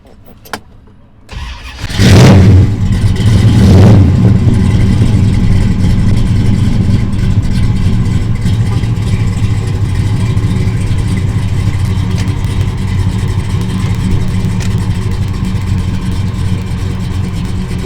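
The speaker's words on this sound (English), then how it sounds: "3-inch exhaust all the way to the back, Flowmaster Super 40 mufflers" A 1969 Dodge Charger engine with 3-inch exhaust and Flowmaster Super 40 mufflers cranks and fires up loudly, blips twice with deep throaty revs, then settles into a rumbling, burbling idle that holds steady.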